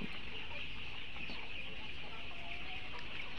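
Layer chickens on a poultry farm cluck softly and steadily in a continuous, fairly faint background murmur, with no voices over it.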